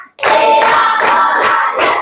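A classroom of children claps together in a burst of loud, close, dense applause that runs almost unbroken, with slight pulses of rhythm and no talking over it.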